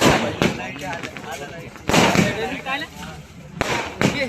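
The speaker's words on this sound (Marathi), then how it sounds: "फटाके बघा" Several sharp firecracker bangs go off at irregular intervals at a Khandoba village fair, loud and close, with voices and background noise between the bursts.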